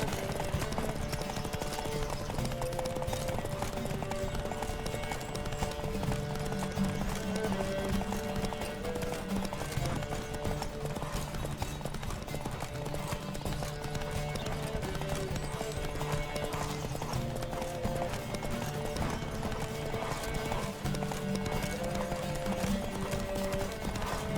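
Horses galloping in The Witcher 3: a steady, dense clip-clop of hooves runs throughout at a loud, even level, layered with game music and an occasional whinny.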